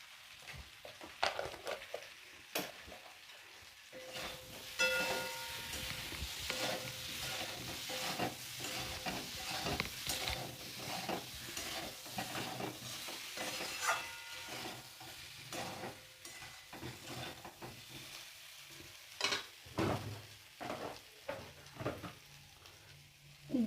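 Boiled potatoes frying in a pan with turmeric, salt and Kashmiri red chili powder, a steady close sizzle broken by scraping stirs and spoon clinks, with no talking.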